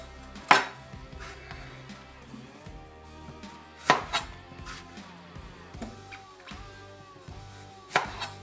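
Knife chopping eggplants on a board for pickled vegetables (torshi), a few sharp, loud isolated chops spaced several seconds apart over a quiet kitchen background with faint clatter.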